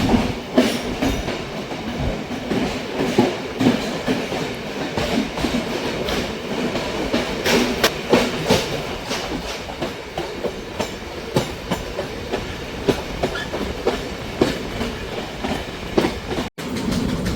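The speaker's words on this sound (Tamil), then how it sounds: "வவுனியா புகையிரத நிலையத்தால் புகையிரதம் போய்கொண்டிருக்கு." A passenger train pulling out of Vavuniya railway station around midnight rumbles loud and close from inside, with steady clickety-clack of wheels over rail joints and a brief squeal near the end.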